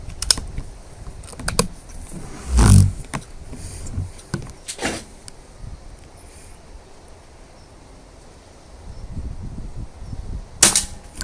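An air rifle fires BSA wadcutter pellets at paper targets, with two sharp, close cracks several seconds apart and quieter mechanical clicks and handling noises between them.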